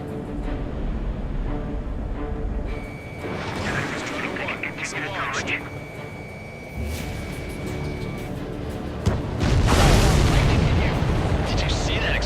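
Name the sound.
explosion of a supply ship in Ace Combat 7 video game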